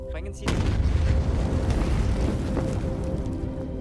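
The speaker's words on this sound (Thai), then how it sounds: "เสียงระเบิดทำให้พวกที่อยู่ข้างนอกเนี่ยขวัญเสียไปตามๆกัน" A sudden explosion in the film Land of Mine (2015) booms and then rolls into a sustained, loud roaring rumble that slowly fades, with a brief voice just before it.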